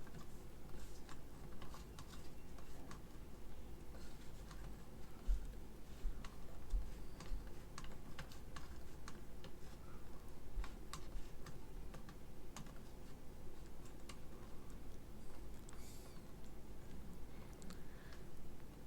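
Typing on a computer keyboard: quiet, quick clicks and taps that run steadily for a long stretch at an uneven rhythm, with no talk.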